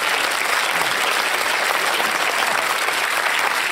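Audience applause thanking a televised Q&A panel including Christopher Hitchens, a steady, dense wash of clapping from a large crowd, loud and continuous throughout with no talk over it.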